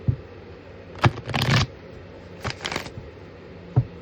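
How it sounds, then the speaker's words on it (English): Tarot cards shuffled by hand in a few short crisp bursts, a longer riffle in the middle, close and fairly quiet with no voice. "Last shuffle."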